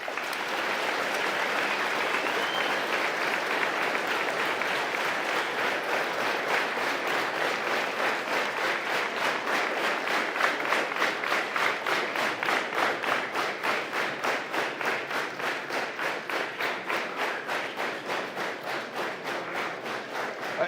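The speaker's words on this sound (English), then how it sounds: "Please give them a round of applause while my deputy hands them their awards." Sustained audience applause fills an awards ceremony hall, a dense steady wash of many hands clapping that continues throughout, with individual claps becoming more distinct and rhythmic toward the end.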